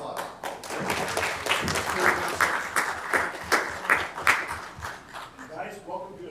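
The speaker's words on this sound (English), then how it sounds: "one more round of applause" People at a city council meeting clap in a round of applause, loose, uneven bursts of hand claps rising and falling close by, mixed with chatter and voices talking over them.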